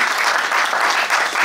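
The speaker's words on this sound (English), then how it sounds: "please give a round of applause to your anchors" Audience applause at a business forum, steady dense clapping from a full room that holds evenly throughout, loud and close with no voices over it.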